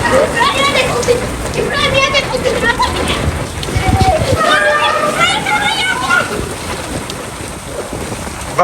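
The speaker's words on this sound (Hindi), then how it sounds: "ओए इतनी तेज बारिश।" Heavy rain pours down in a steady, dense hiss with gusts of wind buffeting the microphone, loud and close, while people talk and call out over it.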